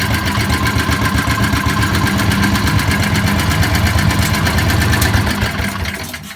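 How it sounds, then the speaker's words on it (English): The stock motor of a COOT ATV under restoration runs steadily nearby, a loud, rapid mechanical chugging with a tinny rattle that holds constant before cutting out at the end. "There it goes. That's the stock motor."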